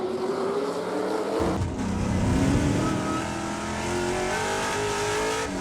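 On-board sound from a TC Garage Row Racing Ford Mustang Trans Am race car at Laguna Seca: a loud, steady V8 engine roar with rising and falling pitch through gear changes, close and continuous, with no voices.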